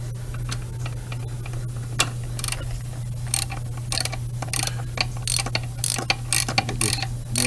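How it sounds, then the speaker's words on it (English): Ratchet clicking while spark plugs are changed on a Mustang Bullitt, with bursts of sharp close clicks at an uneven pace over a steady engine hum. "Here's my ratchet."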